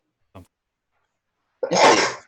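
A single loud, close sneeze bursts out after a brief faint sound and a moment of silence.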